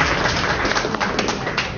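Audience clapping for a comedian at a college comedy show, a brief burst of scattered applause in a room, with some crowd noise.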